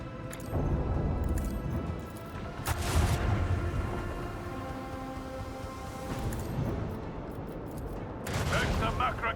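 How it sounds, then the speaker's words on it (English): Macra cannons firing in the video game Rogue Trader: a dense, continuous barrage of heavy booming blasts, with louder bursts near the start, middle and end, under bursts of combat chatter. "Let the Macra cannons sing their deadly litany"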